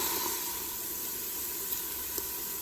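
Garlic and vegetables sautéing in a pan for Southern red beans and rice give a steady, soft, continuous sizzle and hiss, with a couple of faint pops and no talking.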